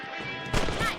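A rifle shot in Red Dead Redemption, fired while hunting rabbits, lands as a single sharp crack at mid-clip with a second, softer impact just after, over a steady game ambience.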